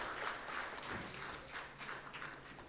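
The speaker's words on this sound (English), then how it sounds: "Ladies and gentlemen, please put your hands together once again. Clapping is good for all." Quiet applause from a conference audience on concrete innovations sounds distant and faint, a loose patter of clapping with uneven bursts.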